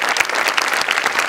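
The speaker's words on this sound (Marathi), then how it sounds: "जोरदार टाळ्या तिघांसाठी." A studio audience at a Marathi comedy show applauds the performers with dense, continuous clapping, close and lively, sustained throughout without speech.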